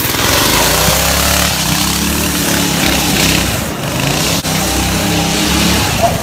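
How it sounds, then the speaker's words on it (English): A Honda drift motorbike engine runs loud and close throughout, a continuous rough mechanical roar with a brief dip near the end, no talking. "this is our Honda drift bike, Mighty Mod style shenanigans"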